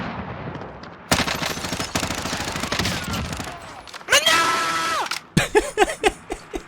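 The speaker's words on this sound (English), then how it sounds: "More shots coming in. More snipes." Sniper and rifle gunfire in the battle royale game Warzone: bursts of loud shots and rapid fire cracking nearby, with a sharp sweeping effect midway, then several separate heavy reports at the end.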